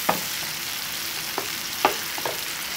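Onions and tomatoes frying in a pan, a steady faint sizzle with a few sharp clicks of a utensil stirring, no voices.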